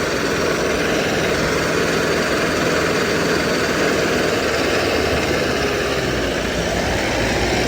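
A CRDI diesel tractor engine, converted to an inline pump, runs steadily with a dense, loud low rumble and constant vibration, heard close up with no talking.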